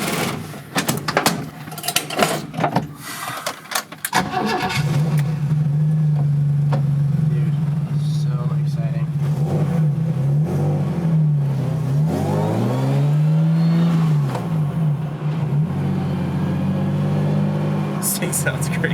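A BMW E30 with a swapped-in S50 engine drives along, its loud steady engine drone rising and falling in pitch as it revs and shifts, after a few seconds of cabin rustling and knocks.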